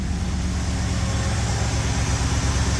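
A Ford 351W V8 in a classic catering truck idles at a fast, steady pace, its deep, even rumble close and continuous with no talk.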